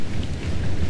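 Stormy weather with rain in the video game Atlas, a dense low rumble and steady wash of rain heard briefly and fairly loud with no talking.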